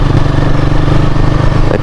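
A motorcycle rides a muddy road on a small island, its engine a steady, loud mid-pitched drone with a fast, regular pulse throughout, up close and with no talking.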